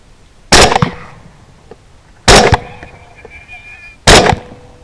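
Three loud, sharp gunshots are fired at hogs during a hunt, spaced a couple of seconds apart, each followed by a brief echo over quiet outdoor background.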